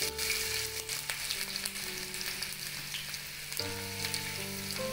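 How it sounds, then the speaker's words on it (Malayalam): Chopped ginger and garlic fry in hot oil for a jackfruit chilli dish, giving a steady, loud, close sizzle throughout with faint stirring clinks and no talking. "നമ്മൾ കൊതച്ച് കൊതച്ച് അരിഞ്ഞ് വെച്ച ജിഞ്ചർ ഗാർലിക്ക് നമ്മൾ ഇതിലേക്ക് യൂസ് ചെയ്യാം"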